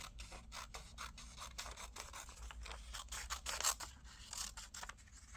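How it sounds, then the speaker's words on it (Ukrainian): Scissors cut a thin strip of red paper, giving a quiet run of close, crisp snips and rustles in a steady rhythm with no talk. "Тепер візьмемо червоний папір і відріжемо від червоного паперу таку тоненьку смужку."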